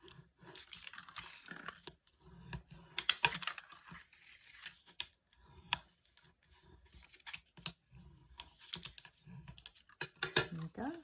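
Dry scraping and rubbing strokes come from burnishing folded score lines on a papercraft card, close and faint, in short irregular bursts with small taps and crinkles.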